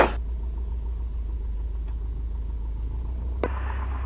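An RV6 light aircraft engine runs steadily during a pre-flight run-up, a loud, even rumbling drone with a brief click partway through and no talking.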